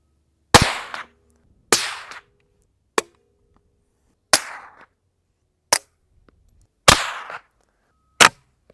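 Seven suppressed subsonic .22LR gunshots, each a sharp, close crack followed by a short decay, fired at irregular intervals with near silence between them.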